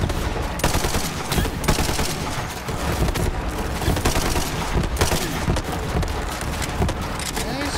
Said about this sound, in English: why are they shooting so much, man?